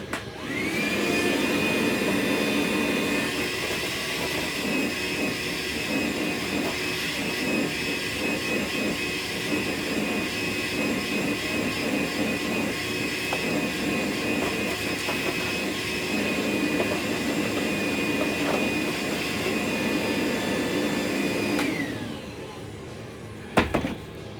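A vacuum cleaner runs steadily over the carpet inside a Jeep Wrangler, a loud continuous whine and rushing suction for about twenty seconds before it shuts off abruptly.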